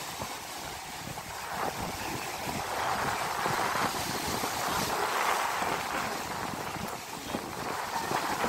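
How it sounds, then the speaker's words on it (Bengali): Big sea waves crash and roll in a continuous rushing surf, loud and steady, with wind noise on the microphone. "বড় বড় ঢেউ আসতেছে না?"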